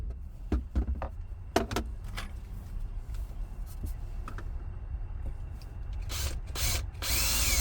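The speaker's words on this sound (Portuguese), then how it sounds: "Furar aqui a chapa agora e instalar primeiro o aquecedor" A power drill bores holes through a metal sheet on a motorhome, with short whirring bursts and scraping contacts near the start, quieter gaps in the middle, then louder bursts of grinding toward the end.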